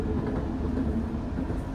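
Rajdhani Express passing a level crossing near Chandrapur station, a steady, loud rumble of rolling coaches filling the whole moment with no voices.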